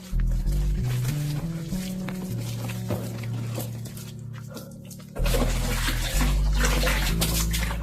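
Water gushes steadily from a pipe into a drum, a continuous close splashing roar with a few knocks and a brief dip midway.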